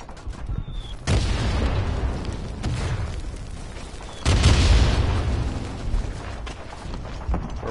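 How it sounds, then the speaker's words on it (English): Heavy bomb blasts from the World War I shooter Verdun, two deep booming explosions a few seconds apart, each followed by a long rumbling tail and scattered debris over a constant battlefield din. "We're being bombed."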